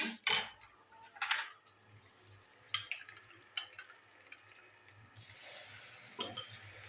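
A spice paste of ground coriander, cumin, chilli and turmeric loosened with water is stirred in a pan: irregular metallic clinks and scrapes of the spoon, with a soft sizzle rising near the end.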